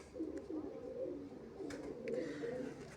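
Pigeons in a loft with nesting pairs, soft low cooing rolling continuously at close range, quiet, with a couple of faint higher chirps.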